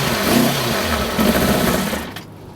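A 2000 Kawasaki ZX6R Ninja engine, fresh from a swap, cranks over in a fast buzzing whir that doesn't catch, then cuts off near the end.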